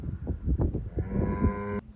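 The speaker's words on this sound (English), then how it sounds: "these cows that have just appeared over here" A Highland cow lets out a long, low moo close by, rising into a drawn-out tonal call that cuts off abruptly.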